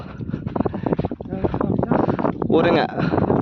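Gusty wind on a hilltop buffets the microphone in uneven bursts, rising stronger near the end, while someone talks over it.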